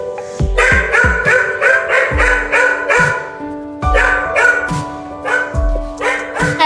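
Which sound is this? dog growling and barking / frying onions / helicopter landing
dog growling and barking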